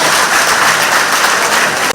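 An audience at a community centre meeting gives a loud, dense round of applause that carries on steadily and stops abruptly near the end.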